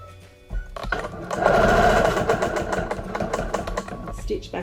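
A Bernina Q-Matic quilting sewing machine stitches in a steady, rapid mechanical whir that starts after a brief pause and runs close and loud, with faint talk alongside.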